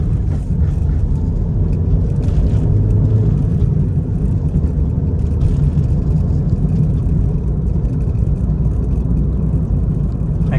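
'99 Honda Civic with a swapped engine driving slowly, a steady loud engine drone and road rumble with only slight changes as it shifts, close inside the cabin.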